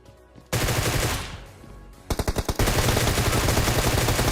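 Loud, dense automatic gunfire sprays in rapid bursts in PUBG gameplay. A short stuttering volley is followed by sustained continuous firing close up.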